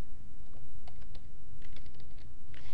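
Keystrokes on a computer keyboard while entering a memo into accounting software, a quiet scattering of light clicks in small irregular bursts over steady low background hum.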